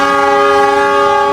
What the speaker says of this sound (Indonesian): ini dia lokomotif dinas kereta api Taksaka kali ini adalah CC06 1302 tipe induk Purwokerto